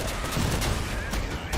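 A brief, dense burst of weapons fire from vehicle combat in Crossout, rapid overlapping shots rattling loudly for a second and a half.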